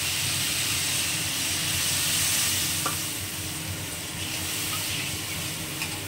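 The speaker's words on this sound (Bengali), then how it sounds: "এই যে মশলা কষানো হয়ে গেছে, এবার জলটা দিয়ে দেবো।" Water is poured into fried spices in a pan while making parshe fish curry with black cumin and green chillies, giving a loud, steady sizzling hiss that eases slightly midway, with no voices.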